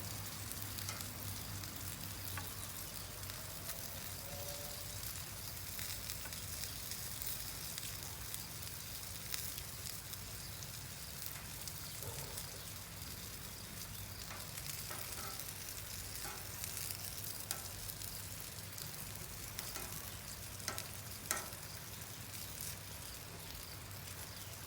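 Duck breast and picanha sirloin sizzling on a grill, a steady faint crackle and hiss with scattered small pops running throughout.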